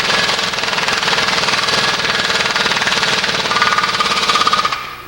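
A pneumatic impact wrench hammers steadily on a wheel bearing nut, a loud continuous rattling burst lasting about five seconds before cutting off.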